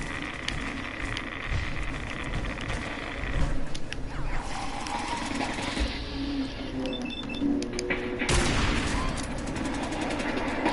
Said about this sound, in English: Fire machine guns, fire machine guns.